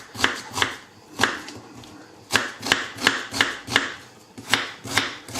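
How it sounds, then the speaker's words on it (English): Onions chopped with a knife on a cutting board for a no-mayonnaise new potato salad: a steady series of crisp, close knocks, each with a slight crunch, with a short pause partway through. "whilst we chopped all these onions"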